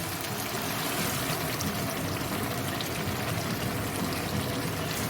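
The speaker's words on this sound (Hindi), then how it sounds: "अब यहाँ पे हम डालेंगे थोड़ा सा पानी" Water pours steadily into a pot of beef kofta curry, a continuous splashing rush that stays even and fairly loud from start to finish.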